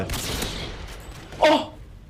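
Gunfire in a competitive Call of Duty match on the High Rise map, a quick burst of shots that stands out briefly over a steady, noisy game background.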